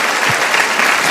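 A church congregation applauds, a brief, loud, even wash of many hands clapping together.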